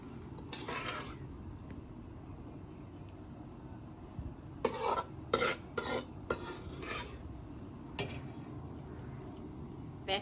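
Aloo matar curry is stirred into roasted masala in a pot, giving a quiet steady sizzle under scattered scraping and clinking spoon strokes against the pot, clustered in a few short bursts.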